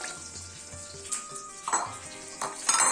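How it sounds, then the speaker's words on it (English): Chopped carrots and celery stirred into a lamb stew in a pot, with a utensil scraping and clinking against the pan over a soft bubbling sizzle, close and fairly loud, with clustered stirring strokes toward the end. "just going to mix them around with the stew, give it a nice bath"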